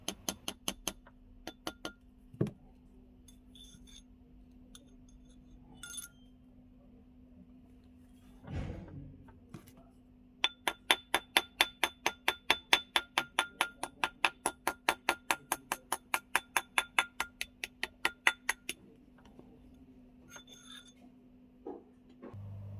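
Rapid, evenly spaced metallic taps of a hammer reshaping a bent metal ring ring out in a long run after a few scattered knocks and a thud, bright and close.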